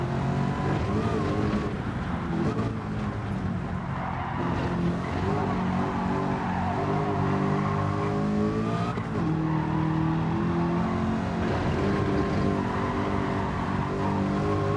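A custom hot rod, the Eckert's Rod & Custom Mach Forty, roars loud and close as it accelerates hard through the gears, with a steady engine drone and rising, shifting harmonics that dip and climb again at each gear change.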